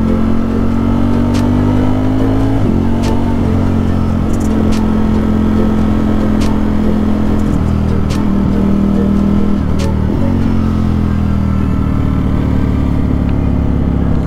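A Yamaha FZS 600 Fazer motorcycle in race mode with wheelie control revs hard during wheelie practice, its loud, close engine note rising and dropping through several gear shifts across the whole stretch, with no voices.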